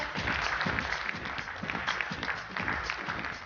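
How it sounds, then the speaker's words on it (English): An audience applauds at an honors ceremony during a festival event, giving steady, dense clapping from a crowd for several seconds. The sound is moderately distant and fairly quiet, with a faint voice underneath. "Can we have a huge round of applause?"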